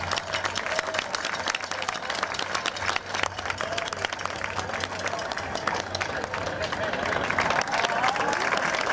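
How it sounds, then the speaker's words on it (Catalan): A crowd at a fifth-anniversary gathering of dolçaina and drum groups in Vinaròs applauds the members, giving steady, moderately loud clapping under a low hum, with scattered voices and cheers mixed in. "un aplaudiment pels components, igual d'una colla que de l'altra"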